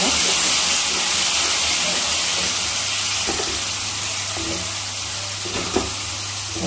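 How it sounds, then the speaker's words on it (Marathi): Tomato puree sautéing with onions in a pan for chole, a steady sizzling hiss throughout, close and continuous with faint stirring. "पहिला एक 5 मिनटं असंच टमॅटो प्युरी परतून घेणार आहे आपण कांद्यामध्ये"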